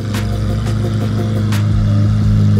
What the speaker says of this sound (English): This Aventador sounds freaking ridiculous